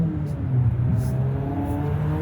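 A 2022 Jeep Compass TrailHawk 4x4 engine pulls under full throttle, a steady droning rumble heard from inside the cabin, moderately loud and unbroken with no talk.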